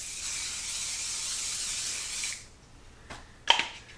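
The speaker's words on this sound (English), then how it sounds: "I'm just going to lightly spray it with some cooking spray." A can of cooking spray sprays into a loaf pan in one steady hiss for a couple of seconds, followed by a few faint clicks and a light metallic tap.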